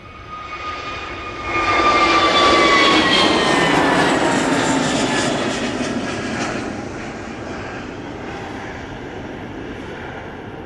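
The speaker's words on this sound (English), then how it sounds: "Great landing, probably quite passive there with the reversers." An airliner lands at Manchester Airport with gentle thrust reverser use, a loud broad engine roar swelling quickly then slowly easing off into a steady distant rumble, with a fading high whine on top.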